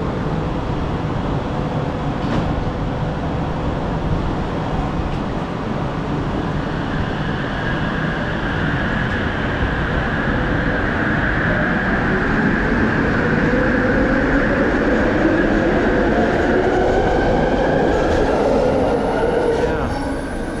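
Riding inside a four-car Kuala Lumpur LRT train: a steady loud rumble of wheels on rail with rising whine and faint squealing tones as it moves, continuous throughout, no speech heard.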